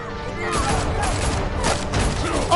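Sustained police gunfire in the Telltale Batman video game, a loud continuous barrage of overlapping shots with a voice speaking over it.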